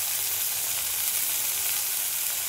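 Onion and green chilli paste frying in a pan for a village-style chicken posto curry gives a steady, close, dense sizzle. It holds at an even loudness throughout, with no voices.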